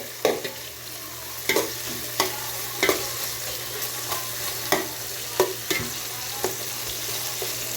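Milkfish sautéing in a pan with onion, ginger and tomato: a soft steady sizzle broken by regular scraping stirs, about one every half second to second, close and fairly quiet with no talking.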